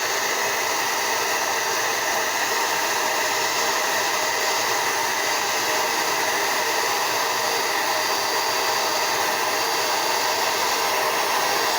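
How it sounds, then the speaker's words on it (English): Hair dryer blowing warm air to soften mustache wax, a steady loud broadband whoosh with a constant motor whine, running continuously and close by with no speech. "I'm going to put a little heat on it just to soften it up"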